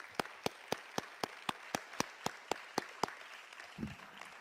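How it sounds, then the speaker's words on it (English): At a graduation ceremony, close hand clapping sounds as about a dozen sharp, evenly spaced claps in a steady rhythm, quiet overall, before stopping near the end. "Let's have one more round of applause for all the graduates."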